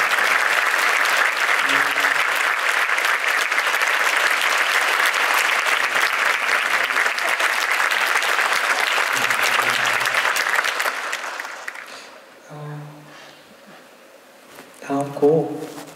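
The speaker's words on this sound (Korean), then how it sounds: "만약에 맞다면 박수를 좀 보내주세요" Concert audience in a large theatre hall applauding for a singer, a steady, full roar of clapping that holds for several seconds then dies away, followed by brief speech from the stage.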